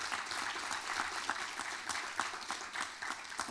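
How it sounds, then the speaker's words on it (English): Audience clapping at a press panel event, a dense, even wash of applause heard from the room at moderate distance throughout. "if you would join me in a round of applause for all those who have helped to put this program together."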